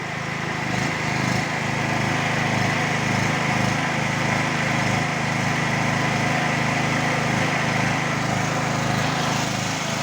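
A Stanley SG 3100 generator runs at full throttle with an electrical load connected to its socket, giving a loud, steady engine drone with a buzzing mechanical edge that holds constant throughout.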